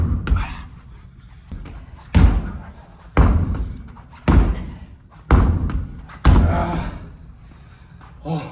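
A medicine ball is slammed onto the ground during exercise, landing as about seven heavy, deep thuds roughly once a second. Each slam is close and punchy, with effortful breathing in the gaps.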